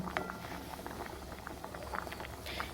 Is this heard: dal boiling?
yes